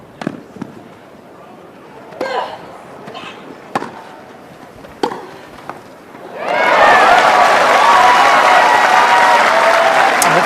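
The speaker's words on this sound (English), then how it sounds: "A lot of noise being generated by the crowd, mostly the Aussies, but the Filipinos as well" Wimbledon tennis crowd of Australian and Filipino fans: a few sharp isolated claps and shouts in a quiet stadium, then a sudden loud, sustained roar of cheering and applause.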